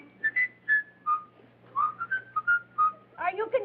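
A mynah bird whistles a tune of short rising and falling notes in separate phrases, close and clear, ending in a more tangled, chattering burst.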